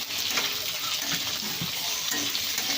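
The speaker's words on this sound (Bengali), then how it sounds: "তেজপাতা ফোড়ন দিলাম, আদা রসুন, কেটে রাখা ক্যাপসিকাম, পেঁয়াজ, কাঁচা লঙ্কা দিয়েছি 4টে।" Bay leaf, ginger, garlic, capsicum, onion and four green chillies frying in oil for chilli chicken, a steady loud sizzle with scraping stirs running throughout.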